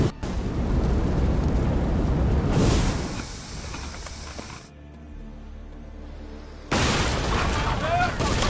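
Ship cannons fire in Assassin's Creed Odyssey, giving loud booming blasts and a hissing rumble that fade into a quieter lull before another heavy burst returns near the end.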